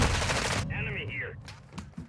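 Gunfire from a sniper rifle in the video game DMZ, a loud burst at the start followed by fainter distant shots and a whining electronic tone.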